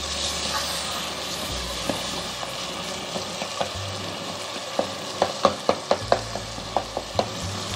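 Soft tomatoes hiss steadily as a tomato masala fries in a pan for chickpea pulao. Sharp spatula clacks and scrapes against the pan come in a quickening run toward the end.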